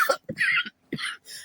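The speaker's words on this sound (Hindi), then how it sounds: "एक तो मेरी खांसी भी ठीक होने का नहीं दे रही।" Several short coughs and throat-clearing bursts from a woman with a lingering cough, close and fairly loud, in quick uneven succession with brief pauses between.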